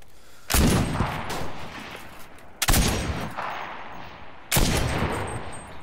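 Three separate bursts of rapid gunfire in a Cuisine Royale battle-royale match, each loud, close and sharp, spaced about two seconds apart with a decaying tail between them.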